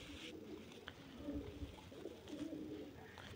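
Pigeons coo softly in low, rolling murmurs in a quiet space, with a few faint bird chirps.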